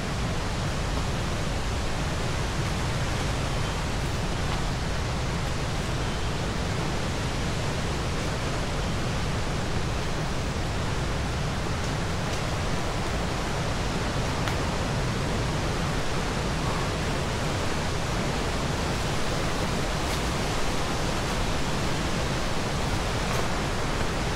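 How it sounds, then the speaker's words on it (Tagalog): Waterfall on the Pacific Coast Trail, a steady, loud, unbroken roar of rushing water that fills the whole stretch without pause. "Yung falls."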